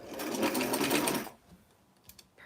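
Sewing machine back stitching along the front and back facing of a 1990s vintage gown with a sweetheart neckline, a loud steady motor whir that stops abruptly, followed by faint handling clicks.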